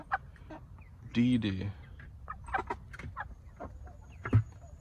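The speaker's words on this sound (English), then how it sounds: "And good morning to these lovely chicken." Chickens cluck in a backyard setting with one loud harmonic squawk near the start and scattered short clucks throughout, while a person talks nearby.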